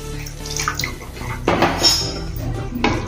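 Hot water splashes into a pan of tomato curry with a short rushing pour and a few metallic clinks of cookware, close by.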